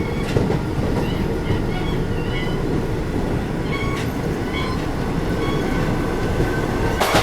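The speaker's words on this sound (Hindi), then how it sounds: "अभी अपनी गीता जयंती एक्सप्रेस अपनी मैक्स स्पीड 110 पे भाग रही है पलवल निकलने के बाद" The Gita Jayanti Express speeds along at 110 km/h past Palwal, a continuous loud rumbling roar of wheels and carriage heard from inside the train, with faint rhythmic clicks and occasional brief squeals.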